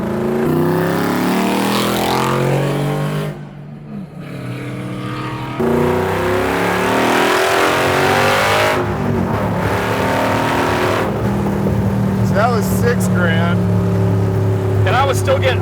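Superformance MkIII Cobra R with a 5.2 Aluminator engine making 580 hp revs hard, loud and close, its roar rising and falling through several throttle blips with a brief dip midway, while people talk underneath.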